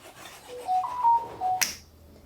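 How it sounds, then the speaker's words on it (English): A single crisp finger snap cracks out near the end, preceded by faint airy tonal chimes, in a quiet cabin aboard a sailing boat. "If you snap your fingers, it'll turn orange."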